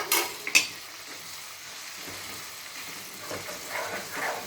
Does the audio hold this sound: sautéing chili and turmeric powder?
yes